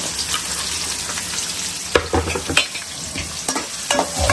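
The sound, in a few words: onions sautéing in a pan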